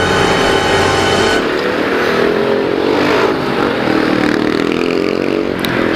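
Rush-hour motorcycle and car traffic roars around a rider on a Honda PCX 150 scooter: a loud, continuous close engine drone and rumble with no pauses.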